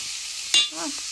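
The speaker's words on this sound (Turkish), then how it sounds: "Soğanımızı da bir güzelce şimdi kıymamızla soğanımızı kavuracağız." Steady crackling sizzle of onions and minced meat frying in hot oil, briefly interrupted by a clink and a short hum, close by.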